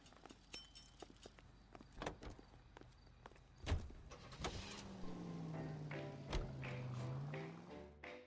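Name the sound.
car driving in the video game L.A. Noire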